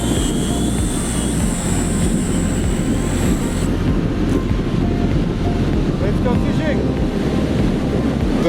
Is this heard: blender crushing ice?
no